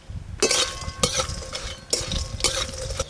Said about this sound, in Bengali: বড়িগুলো ভালো করে ভাজা হয়ে গেল